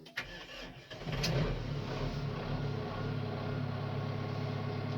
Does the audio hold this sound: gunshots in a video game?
no